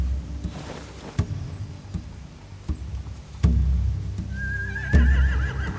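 Horses whinny in The Walking Dead video game, a rising neigh near the end over a low rumble of ambience, scattered thuds and shuffling hoof-like taps.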